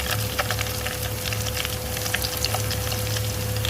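Whole spices, including cloves, black peppercorns, star anise and cumin, crackle and sizzle steadily in hot oil as they brown, a dense continuous frying sound with a faint hum underneath and no voices.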